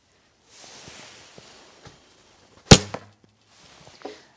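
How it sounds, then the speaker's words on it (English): A lightly drawn 38 lb bow releases an arrow with pheasant feather fletching, giving one sharp, loud crack followed by a brief fading whir, set among faint rustling and soft scattered outdoor noises. "If you hear that sound, this is the fletching. So it's pheasant fletching."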